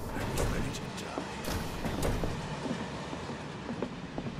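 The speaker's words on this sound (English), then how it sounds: "This cool old-style train" Old-style train running in Final Fantasy 7 Remake, a steady rolling rumble with rhythmic clicking and clacking of wheels, fairly faint, with voices talking over it.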